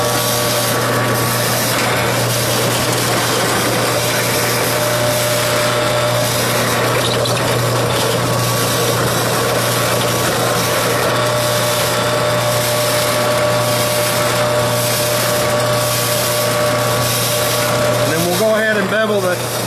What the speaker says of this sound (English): Drill and tap the heels also.